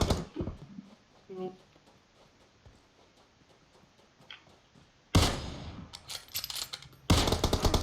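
Gunfire in PUBG Mobile on the Livik map: after a quiet stretch with a few faint sounds, loud bursts of automatic fire break out near the end, with brief pauses between them.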